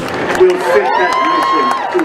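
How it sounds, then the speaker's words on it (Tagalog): A crowd cheers and shouts throughout a presidential inauguration speech, with mixed voices, whoops and scattered applause blending into a steady, lively roar. "The crowd cheered during the speech, especially when the president spoke of unity and having similar aspirations with the people"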